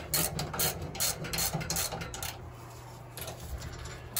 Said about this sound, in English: similar to a car tire, we're going to use a staggered tightening sequence, right? Just like this.